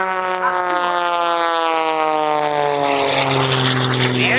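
A Red Bull Air Race propeller plane flies low past the crowd at the Farnborough International Airshow, a loud, steady engine drone whose pitch slides downward as it passes.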